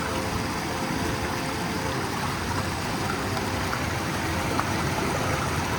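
Strongly flowing river water beside a village, a steady, loud, continuous rush and gurgle that stays even throughout with no voices.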